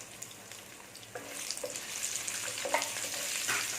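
Small onions sauté in hot oil for a cashew chicken gravy, a steady crackling sizzle that builds over a few seconds, with occasional scraping stirs, close and moderately loud, no talk.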